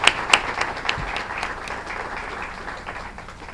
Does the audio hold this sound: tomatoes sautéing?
no